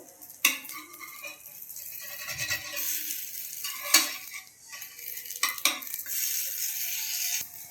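Chapati cooking on a hot pan, a steady low sizzle with scattered scraping and clinking as it is moved and pressed, close and moderately loud with no talk.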